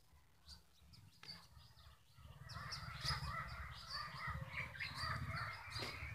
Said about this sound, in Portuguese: O passarinho lindo, laranja.